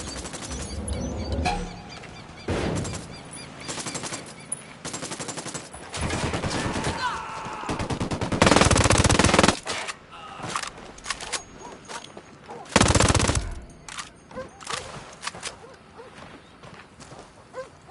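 Sustained bursts of automatic gunfire and scattered single shots crackle through a firefight in Ghost Recon Wildlands, loud and dense with a few brief pauses, ending in a couple of heavy louder volleys.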